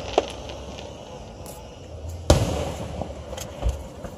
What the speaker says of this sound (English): We're at the fireworks!